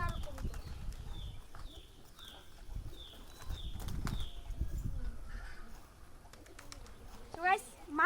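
Racing pigeons on a farm coo softly while wings flap in bursts, with a repeated higher chirping call and a louder flutter near the end, all faint and close against a low rumbling background.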